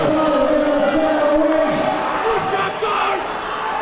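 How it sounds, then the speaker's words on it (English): Roaring boxing-fight crowd, a loud continuous mass of yelling and cheering voices with shouts rising above the din throughout, no single voice standing out. "Crowd going nutters."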